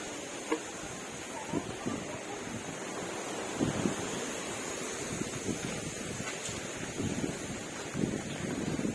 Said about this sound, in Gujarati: જોઈ શકો છો પવન બહુ જ આવી રહેલો છે